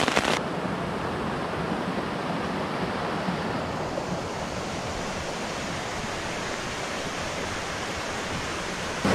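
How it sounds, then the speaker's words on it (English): A rain-swollen Alpine creek rushes in a steady, dense roar close by, unbroken for the whole stretch with no voices. "the water from this creek was crystal clear, and right now, because of all the rain, you know, there's much more water coming down from"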